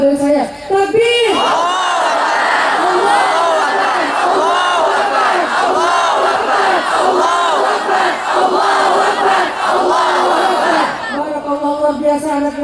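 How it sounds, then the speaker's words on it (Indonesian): A large crowd of young people at a religious gathering in Langsa chants takbir together, loud rhythmic shouts of Allahu Akbar repeated in unison over about eleven seconds, with a voice heard briefly at the start and end. "Mari kita takbir serentak 7 kali berturut-turut tanpa ada aba-aba dari saya"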